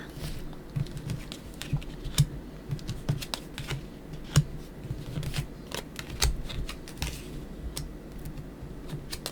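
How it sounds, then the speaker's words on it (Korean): Tarot cards being handled and laid out on a table: soft, irregular clicks, taps and light slaps, quiet and close, with no talking. "타로 카드 열어보도록 하겠습니다."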